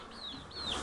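A baby chick gives two thin, high, rising-and-falling cheeps, faint and close, with quiet room noise behind and no talking.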